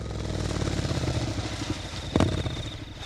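Motorcycle engine sound effect in a Filipino horror audio drama, a close, rumbling idle with a brief louder clatter near the end and no talk over it.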